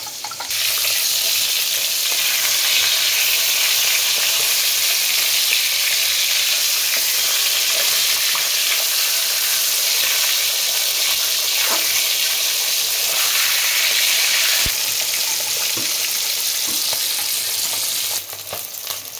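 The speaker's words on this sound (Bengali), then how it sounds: "আমার মাছ ভাজাগুলো হয়ে গেছে, আমি সব তুলে নিচ্ছি এক এক করে।" Katla fish pieces frying in hot oil, a loud, dense, continuous sizzle held close for the whole stretch with only faint occasional clinks, no one speaking.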